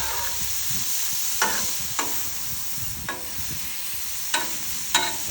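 Meat frying with rice on a hot grill, a steady loud sizzle with sharp scraping clicks of a spatula stirring at irregular intervals, close up and without talk.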